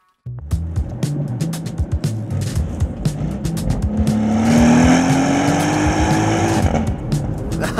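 An older Porsche Cayenne S with a big V8 drives along, its engine note a steady low rumble that swells as it pulls harder midway, then eases back, loud and close with road noise throughout.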